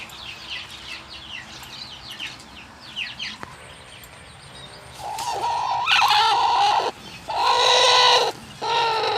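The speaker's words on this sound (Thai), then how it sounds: "นี่ไก่น้อยเลยพี่" Chickens cluck and chirp in the background, then louder squawking bursts of fowl calls break out close by in the second half.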